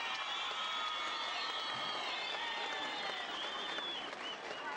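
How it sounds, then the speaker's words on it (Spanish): A jaripeo rodeo crowd in Opopeo, Michoacán, applauding a bull, heard as dense, continuous clapping with some crowd noise, steady and fairly loud for the whole stretch. "El aplauso le toca al toro Martel de Mario García"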